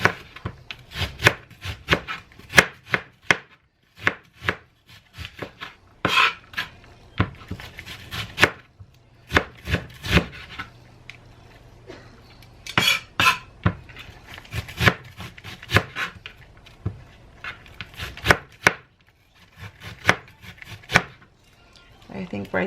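A knife chops a large onion finely on a cutting board in a home kitchen, sharp irregular taps in quick bursts with short pauses, close and clear.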